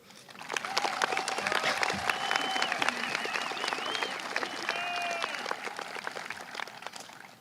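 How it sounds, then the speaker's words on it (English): Graduating high school class and audience at a 2022 commencement break into a steady round of applause, dense clapping filling the hall with cheers and voices mixed in throughout. "I think we deserve a great round of applause"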